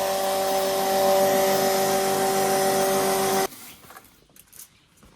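A small electric household flour mill grinds grain with a loud, steady whirring drone and motor hum for several seconds, then shuts off abruptly, leaving faint scattered clatter.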